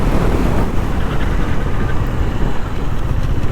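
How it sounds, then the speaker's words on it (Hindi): KTM Duke 390 motorcycle cruising in sixth gear, a steady loud engine drone blended with heavy wind rush buffeting the microphone, continuous and unbroken throughout with no talking. "अभी बाइक जा रही है 6th गियर में"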